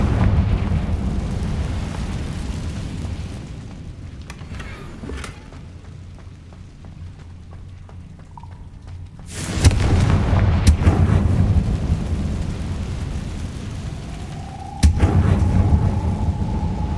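A Confringo spell explodes in the Hogwarts Legacy video game, giving heavy booming blasts with a sharp burst midway and another near the end over a constant low rumble of game ambience.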